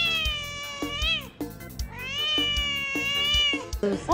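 A cat meows several times up close, drawn-out cries with brief pauses between them, clear and prominent over a quiet room.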